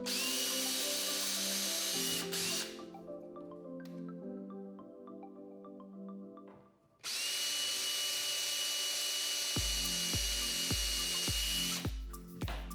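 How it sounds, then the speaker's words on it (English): A power drill whines steadily in bursts, pausing between 1/8 inch holes drilled for an anchor trolley on a Bonafide SS127 kayak, followed by short rhythmic pulses as it bites into material. "drill your 1/8 inch holes"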